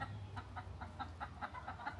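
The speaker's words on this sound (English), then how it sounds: "I have chickens" Chickens cluck in a quick, rhythmic series of short calls, fairly close, over a low steady background hum.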